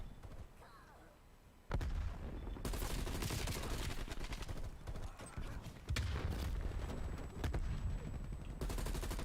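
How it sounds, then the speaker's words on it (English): Video game gunfire and a frag grenade blast on the Nuketown map, with sharp bursts of automatic fire and booming impacts after a quiet opening, continuing in loud clustered volleys. "Throwing frag grenade."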